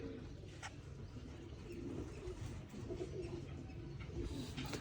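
Domestic pigeons kept for flying competitions coo softly and steadily at close range, their low murmuring continuous under a faint background hum, with no talk.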